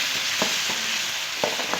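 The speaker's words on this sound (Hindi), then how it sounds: "ये सारे मसाले डाल के आप इसी को फ्राई कीजिए" Chopped tomatoes and spices with kasuri methi fry in a pan for aloo palak, giving a soft, continuous sizzle. A spoon scrapes and clicks against the pan a few times, with no talking.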